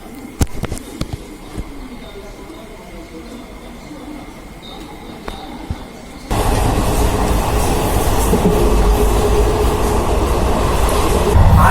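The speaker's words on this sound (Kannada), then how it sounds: "ಬರ್ತಾ ಉಂಟು ಟ್ರೈನು ದೂರದಲ್ಲಿ ಬರ್ತಾ ಉಂಟು ಟ್ರೈನ್" Mavali Express pulling into a station: quiet platform ambience gives way to a sudden loud, steady roar and rumble of the train arriving close by for the second half.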